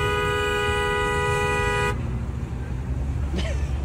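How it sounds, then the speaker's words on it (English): A car horn blares in one long continuous honk over road traffic noise, then cuts off, leaving engine and street sound with a faint higher tone near the end. "annoying car honks are the best"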